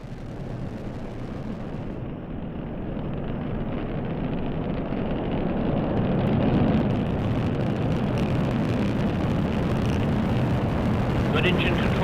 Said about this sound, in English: And liftoff at dawn.